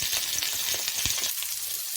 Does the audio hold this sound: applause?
no